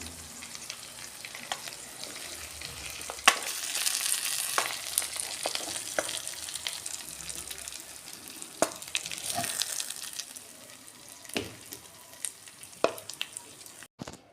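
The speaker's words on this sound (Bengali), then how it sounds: "দেখুন পাতায় মাছ ভাজা আমার হয়ে গেছে" Pieces of katla fish frying in oil inside bottle gourd leaves in a pan, a soft, steady sizzle with intermittent crackles and light scraping clicks, moderately faint and close, no talking.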